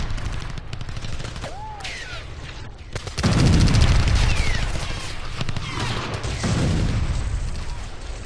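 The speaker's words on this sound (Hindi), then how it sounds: "इसराइल ने एक के बाद एक मिसाइल अटैक से ईरान को दहला दिया है।" Missile attack explosions and rapid gunfire during an Israel-Iran strike with air defence active, dense crackling bursts with a heavy low boom partway through, loud and continuous at a distance.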